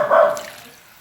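Water from a tap or cup splashes into a pot of sautéed Baguio beans for a soup, a brief close pour that fades within a second.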